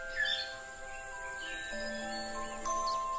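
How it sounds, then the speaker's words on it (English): A Sri Lankan blue magpie calls with thin, high whistled notes and chirps over quiet forest ambience, fairly close and clear. "The rare Sri Lankan blue magpie."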